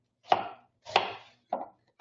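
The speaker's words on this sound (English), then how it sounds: "I'm just going to cut around the core" Knife chopping through an apple around the core on a cutting board: three crisp, near thuds at roughly even intervals, each with a short crunchy tail, and a faint fourth starting at the end, with no talk.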